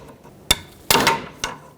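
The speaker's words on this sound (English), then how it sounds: "Get your pry bar right on the clamp, make sure it doesn't slip and damage the boot. We are reusing the boot. Give it a tap." A hammer taps a pry bar set against a single-use boot clamp on an inner tie rod of a 2012-2017 Toyota Camry, three sharp metallic strikes spaced unevenly, close and loud, the middle one ringing longest, with no voices.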